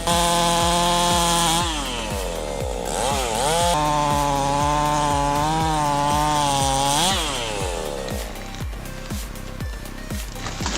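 A ported 100 cc Husqvarna chainsaw cuts through Australian peppermint wood, its loud engine whining and bogging as the chain bites, with rising and falling pitch through the cut and a steady roar throughout.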